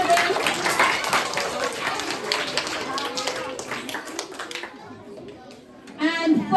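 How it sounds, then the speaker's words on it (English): Children at a school environment-day quiz clap for the winning house, with scattered, fairly close hand claps alongside talking voices, dying away to near silence after about five seconds before louder talk returns. "Clap for them"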